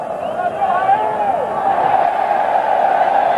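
São Paulo football fans massed in the stands behind the goal at a 2000 Campeonato Paulista stadium match, a steady loud crowd roar with some chanting, under a commentator's voice.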